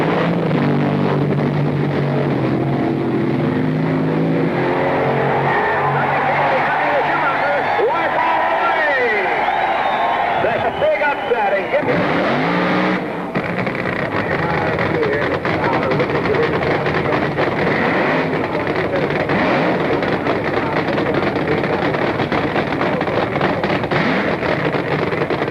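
Front engine dragsters racing through an NHRA elimination round, a loud, continuous roar of engines with crowd noise and wind buffeting, and a narrator talking throughout.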